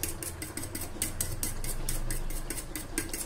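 A spoon rapidly whisks thick yogurt in a bowl for biryani, a steady fast rhythm of about four clinks per second continuing throughout at moderate loudness.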